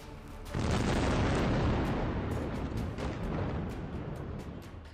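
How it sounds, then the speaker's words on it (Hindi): A sudden, loud explosive boom from the controlled demolition of a water tower erupts and rolls on as a sustained rumbling roar, slowly fading with crackling debris-like bursts. "इस जोरदार धमाके से पूरा इलाका दहल उठा"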